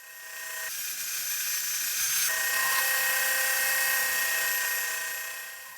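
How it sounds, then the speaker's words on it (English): A table saw rips reclaimed hardwood table legs to width, its steady high whine rising as the blade enters the wood, holding loud and even for several seconds, then easing off. "I could then use those two surfaces to reference off on the table saw to cut the legs to their final width"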